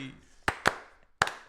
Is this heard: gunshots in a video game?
no